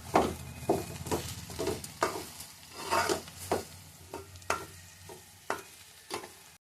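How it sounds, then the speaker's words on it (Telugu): Fish curry with salt, chilli, ginger paste and masala being mixed by hand or spoon, a string of soft, wet scrapes and squelches, each one distinct with short pauses between, close and fairly quiet, with no speech. "ఉప్పు కారం వేసి అల్లం పేస్ట్ వేసి మసాలా వేసి అన్నీ కలిపేసుకోవాలి"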